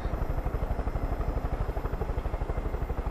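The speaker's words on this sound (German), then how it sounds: "Also ein Hubschrauber ist echt geil." A helicopter in the video game Far Cry 5 produces a steady, rapid rotor thump with a droning engine underneath, heard alone at moderate level.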